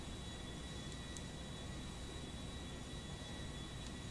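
Airplane flying in GTA V FiveM, a steady broadband engine drone with a constant high whine, even and unbroken, faint overall and with no voices.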